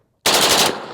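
An HK G3 machine gun fires a short, very loud burst of rapid rounds that merge into one roar, then trail off into echo.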